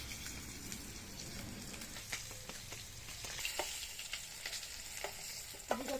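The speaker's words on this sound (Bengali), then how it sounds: "মাছ ভাজা হয়ে গেল" Steady crackling sizzle of catla fish frying in hot oil, with occasional sharper pops and light stirring clicks throughout.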